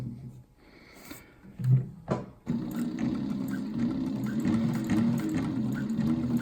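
A sewing machine that sets its needle position automatically stitches adjustable material at a slow, controlled speed. A few clicks and a rustle of handling come first, then a steady, close motor hum and stitching rattle run continuously to the end.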